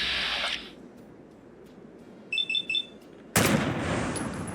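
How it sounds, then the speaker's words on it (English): A Molotov cocktail is shot in mid-air with a Deliverer pistol in Fallout 4, giving a sudden loud explosive burst near the end after a few short beeping tones and a quieter stretch. "Oh yeah, it does explode like a regular frag grenade."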